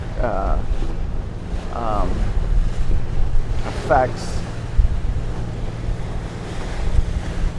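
A boat pushes through ocean waves and turbulent seas, with constant loud wind and water rush over a low engine drone and a few brief voice-like sounds.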